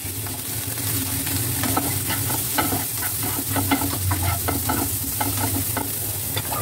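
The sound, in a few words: garlic stir-frying in a pan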